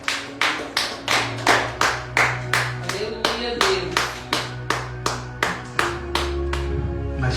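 A church congregation claps in a steady, rhythmic beat of about two claps per second, loud and close, with a held musical tone and faint voices underneath.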